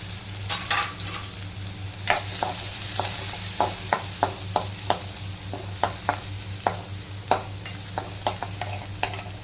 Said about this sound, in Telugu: ఈ ఆనియన్ ఫ్రై అవుతున్నప్పుడే